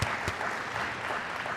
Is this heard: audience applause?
yes